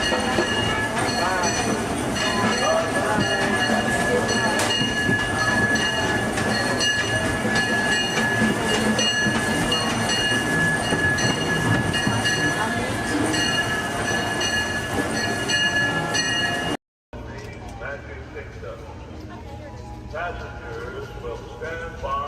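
Disneyland Railroad train standing at Main Street Station, continuous rumble and mechanical clatter under a station announcement, briefly cutting out before quieter rail noise resumes.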